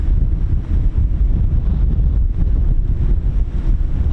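Strong wind buffets the microphone at an air weapons range, a loud, continuous low rumble and gusty roar, with no other sounds standing out.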